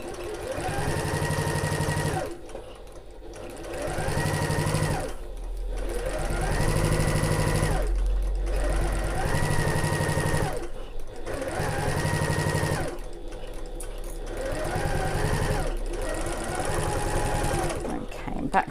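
A sewing machine back stitches a seam on a backpack, running in several loud bursts of rapid stitching separated by short pauses, with someone talking between and over the runs.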